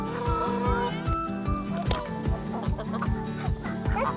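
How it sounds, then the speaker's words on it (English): Chickens on a homestead cluck at feeding time, with repeated short low thumps and scattered calls throughout, close by and fairly steady. "Van, you gonna help us feed the chickens today"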